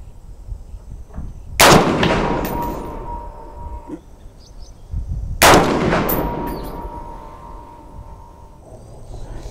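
Two loud, sharp rifle shots from an Armalite AR-10 in .308 fired at targets, a few seconds apart, each with a ringing echo trailing off, and quiet between them.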